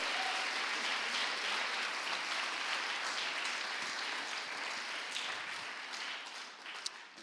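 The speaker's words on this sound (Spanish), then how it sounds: "Dale el aplauso al Señor." A church congregation claps steadily for the Lord during a Spanish-language sermon, a thick, even wash of many hands that holds for several seconds and then gently thins toward the end.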